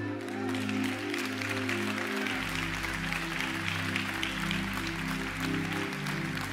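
A church congregation claps through a sermon, a faint steady wash of applause running under a loud low sustained organ or keyboard drone that shifts pitch midway.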